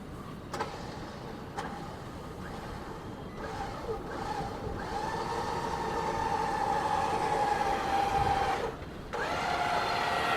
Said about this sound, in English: I'm going to give her the cue that I'm going to begin winching